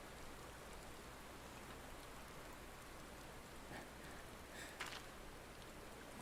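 Steady rain falls in Final Fantasy XIV, a dense even hiss of drops spattering on surfaces throughout, with a few slightly brighter splashes near the end and no voices.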